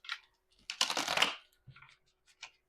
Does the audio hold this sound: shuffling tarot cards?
yes